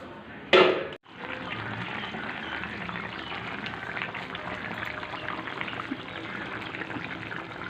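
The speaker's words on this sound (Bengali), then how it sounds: "দেখুন, তরকারি কিন্তু একটা ফুট এসে গেছে" A pot of Bengali vegetable curry thickened with mashed potato boils on the stove. A brief clatter comes first, then a steady, close bubbling hiss continues throughout.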